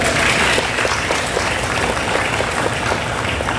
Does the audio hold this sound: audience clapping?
yes